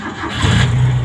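Toyota 4K engine starting after a wiring repair, a short crank that catches and settles into a loud, low, steady running hum close by.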